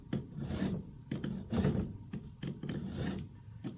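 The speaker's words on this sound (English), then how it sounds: "let me finish sharpening this" A hand file rasps across the teeth of a battery chainsaw chain in a series of short, rhythmic strokes, close and fairly quiet, with brief pauses between passes and nobody speaking.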